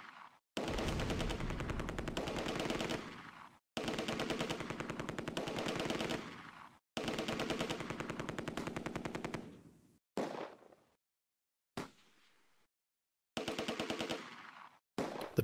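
Machine gun fire in the Close Combat: A Bridge Too Far war game, long sustained bursts of rapid automatic shots separated by short silences, then a few shorter bursts, loud and close.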